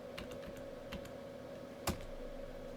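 Keys tapped on a computer keyboard while typing a sudo apt install command in an Ubuntu Linux terminal: a short run of light clicks over a steady hum, then a single louder keystroke, likely Enter.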